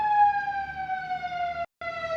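A loud emergency siren wailing in a long, slowly falling tone, briefly cutting out before resuming.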